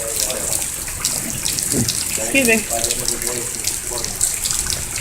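Meltwater rushing and gushing steadily toward a creek, a continuous close wash of water with people talking briefly over it.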